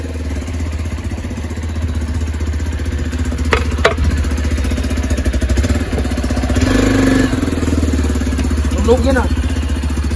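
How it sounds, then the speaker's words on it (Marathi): A Hero Xpulse 200 4V motorcycle engine idles loudly and steadily up close, with a low rumbling throb, while people talk nearby. "मी जरा बाहेर काढतो बाईक"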